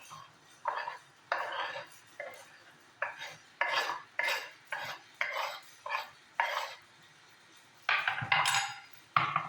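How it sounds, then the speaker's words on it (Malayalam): Metal spoon stirring boiled egg mixture in a bowl, a series of about a dozen short scraping, clinking strokes in an uneven rhythm, close and clear, with faint background noise between strokes. "നമുക്കിതെല്ലാം കൂടി ഇട്ടിട്ടേ ഒന്ന് മിക്സ് ചെയ്ത് കൊടുക്കാം."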